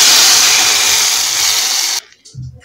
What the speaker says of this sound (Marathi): छान आवाज आला आहे म्हणजे तडका छान बसलेला आहे